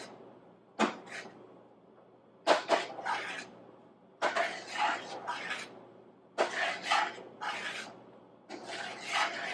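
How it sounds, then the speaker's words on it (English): A spoon scrapes and rubs through oatmeal in a pot, several separate raspy stirring strokes, close and quiet. "as I'm stirring this, I feel like it needs more cranberries"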